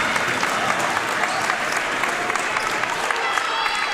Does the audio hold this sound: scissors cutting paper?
no